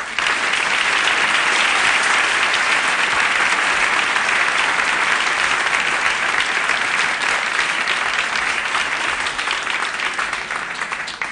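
Theatre audience applauding in a dense, steady wash of clapping from many hands, loud and continuous for over ten seconds, tapering slightly at the end.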